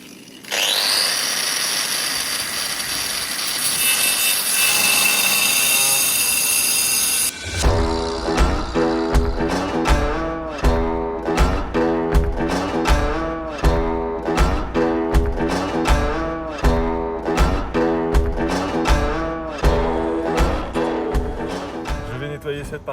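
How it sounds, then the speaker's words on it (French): A circular saw whines at high pitch for several seconds while cutting wood for a camper van skylight, then a rapid run of sharp, regular mechanical bursts continues loudly and steadily. "C'est la première fois que j'utilise une scie circulaire."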